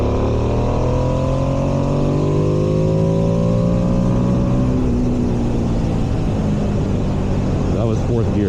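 Ducati Streetfighter V2S motorcycle pulling hard in fourth gear on a road with blind turns, its engine note climbing steadily and loudly through the revs amid constant rushing wind noise.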